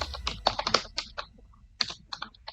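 Rapid typing of code on a computer keyboard, bursts of crisp close keystrokes with a brief pause in the middle before another quick run of taps.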